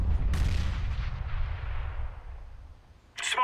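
A grenade detonates with a loud low boom that rolls and fades over several seconds amid video game gunfire, followed by a sharp burst near the end.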